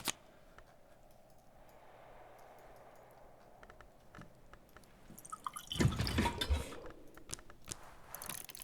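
In the Book of Hours video game, water is poured in a brief splashing rush after a quiet, faintly ticking stretch, with a few soft drips and clicks around it.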